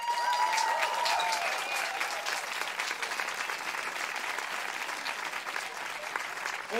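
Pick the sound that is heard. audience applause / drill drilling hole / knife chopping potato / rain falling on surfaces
audience applause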